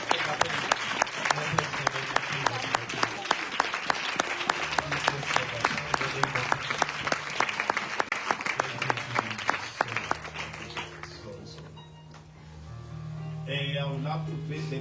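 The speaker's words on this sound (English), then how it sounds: "Can we clap hands for them?" A church congregation applauding at length, dense steady clapping that fills most of the stretch before thinning out, with voices and some music-like tones underneath.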